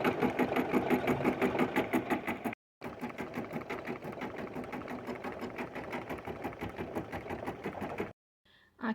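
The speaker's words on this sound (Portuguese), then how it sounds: "A máquina agora, a próxima etapa, vai prender para mim esse tecido." An embroidery machine stitches a layer of fabric down onto the hoop in a rapid, steady mechanical rattle, close and continuous, with two brief pauses where the needle stops.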